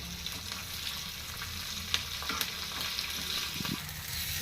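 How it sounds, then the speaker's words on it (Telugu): Tomato rasam being stirred in a pan with a spoon, with an even simmering fry hiss and a few soft scraping and clinking strokes close by, no one talking. "ఒకసారి స్పూన్తో కలుపుకుందాం."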